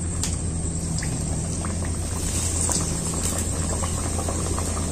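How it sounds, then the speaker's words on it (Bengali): A potato-stuffed Mughlai paratha deep-fries in plenty of hot oil, a dense continuous bubbling crackle over a low steady hum, with no speech. "এটা ডুবো তেলেই ভাজতে হবে।"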